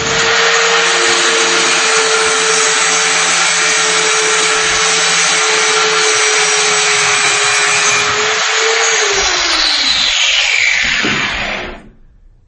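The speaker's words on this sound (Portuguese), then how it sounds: "Isso que eu estou fazendo aqui, limpando essa peça, é um dos procedimentos que o operador vai ter de seguir" Steady, loud power-tool whir while a metal workpiece is cleaned ahead of submerged arc welding, running continuously for about eleven seconds before spinning down and stopping, with no talk over it.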